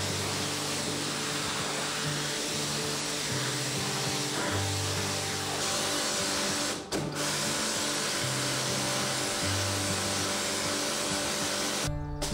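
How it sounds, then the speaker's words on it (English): A pressure washer works inside a barn: a loud, continuous motor whine with a pulsing pump tone that shifts pitch every second or so, steady throughout, with a brief interruption midway and another near the end. "When the pressure washer arrived, I tested it on an old sink I rescued from the garden, and then I started on the inside of the barn."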